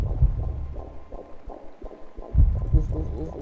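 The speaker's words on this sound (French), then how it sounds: "Et ce battement de cœur." A heartbeat in the horror video game The Moth Inside Me thumps in a steady low rhythm with a double-pulse pattern. It sounds close and muffled over a dim hum, with occasional quiet voice.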